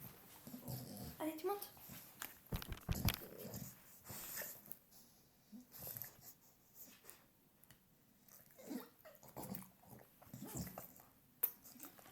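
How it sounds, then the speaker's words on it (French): A dog moves about and whimpers close by, with snorts and breathing mixed in, while someone speaks French over much of it. "Désolée, il y a mon chien qui vient."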